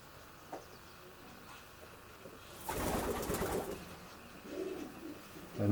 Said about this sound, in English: the pigeons are all breeding at the moment